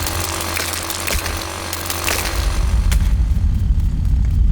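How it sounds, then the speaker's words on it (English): Drilling through rock in the Dinkum video game, a loud rattling, ratcheting grind with sharp mechanical clicks that turns into a deeper rumbling rumble near the end. No talk. "I think we're gonna have to drill our way out."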